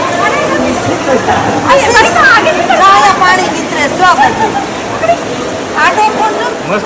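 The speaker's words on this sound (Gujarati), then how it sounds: "જો પાણીનું વહેણ છે બે પર્વતની વચ્ચેથી" Water from a mountain stream flowing between two mountains rushes steadily as a constant roar, with several people talking and calling out over it.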